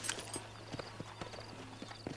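Horse hooves clip-clopping in the video game Red Dead Redemption, a steady run of light, fairly faint hoof strikes over a low background hum, with no talk.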